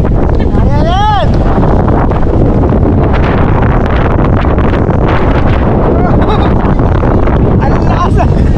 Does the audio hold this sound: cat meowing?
no